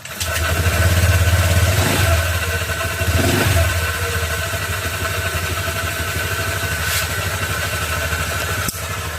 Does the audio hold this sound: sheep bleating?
no